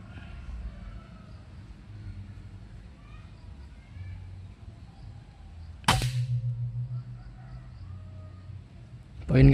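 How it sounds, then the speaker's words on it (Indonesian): One crisp air rifle shot from a Moro HFT barrel, aimed at a pin target at 22 metres, cracks out near the middle over a low background rumble, then a brief ringing tail and a louder knock at the end. "Tembakan keempat, guys."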